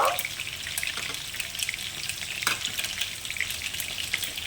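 Mustard seeds and torn dried red chillies spluttering in hot oil, a continuous crackling sizzle with scattered sharp pops, close and fairly loud.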